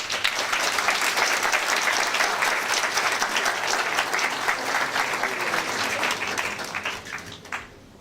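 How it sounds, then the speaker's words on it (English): Sustained applause from a seminar audience welcoming a lecture speaker, dense and steady clapping for about eight seconds that fades out at the end, with no talking over it. "let's have a round of applause for Dr. Bechtel."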